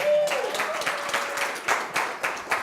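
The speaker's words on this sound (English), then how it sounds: "can we give them a round of applause, please?" An audience at a community college campus talk applauds, producing dense, steady clapping with several louder swells. No voices are heard over it.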